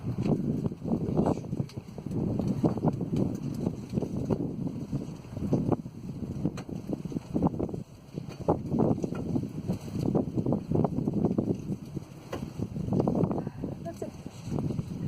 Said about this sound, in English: Hurricane Brian is around, so that's why there's like strong wind.